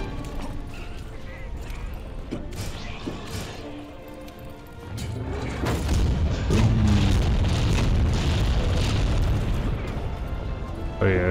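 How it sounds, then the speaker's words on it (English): Booming cannon blasts and explosions in Monster Hunter: World pile up into a dense, loud rumble, with a voice talking over the action. "But these cannons respond nice."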